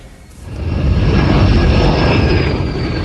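A military aircraft engine roars up loudly and holds as a steady, close drone with a high whine on top, heard alone without speech.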